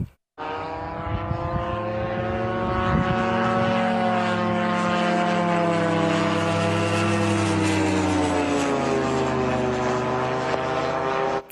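A long-range attack drone bound for Izhevsk drones overhead with a loud, steady propeller-engine hum that holds throughout, its pitch shifting slightly as it passes close by, with no voices.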